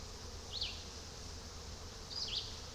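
Honey bees buzz around an open hive, a soft steady hum with two brief closer passes of a single bee.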